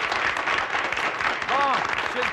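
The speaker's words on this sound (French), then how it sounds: "Vous pouvez l'applaudir, votre maire." Steady applause from an audience at a Canadian evening gathering in Saint-Mathieu-du-Lac-Bellemare, clapping for the mayor, dense and even throughout with a brief voice-like tone rising through it.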